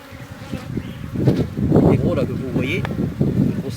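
Bees buzzing around an open, aggressive beehive while frames are handled, a steady insect drone rising and falling under nearby voices and some wind noise.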